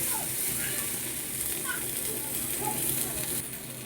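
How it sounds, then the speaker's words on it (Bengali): Vegetables, yardlong beans, fry lightly in oil. A soft, continuous sizzling hiss with faint crackles runs steadily, close but fairly quiet, with a muffled voice in the background. "আগে হালকা একটু ভেজে নিচ্ছি।"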